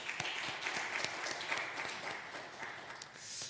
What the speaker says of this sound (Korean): 축복하고 격려하는 박수 하겠습니다.